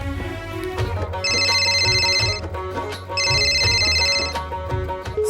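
A phone ringtone plays over background music, a bright repeating electronic ring in two bursts, fairly loud.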